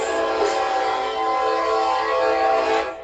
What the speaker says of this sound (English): This is probably the most recognition he's ever gonna get for blowing that whistle.